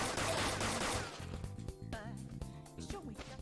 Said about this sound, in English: Gun attacks are effective against the enemies weak to guns